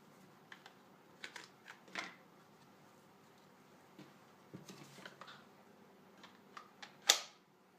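A battery pack slides onto a Makita DJV181Z cordless jigsaw with a series of faint plastic clicks and small handling knocks, ending in one sharper latching snap, recorded close in a quiet room.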